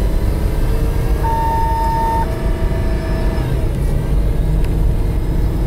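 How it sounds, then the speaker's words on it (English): Ford Explorer with a 5R55W transmission slipping and flashing its overdrive light, accelerating steadily in drive, a loud continuous engine drone with a shift in pitch partway through as the gear changes, heard from inside the vehicle. "I'm gonna put it in drive and just kind of drive it like I would normally drive it and accelerate up to 55"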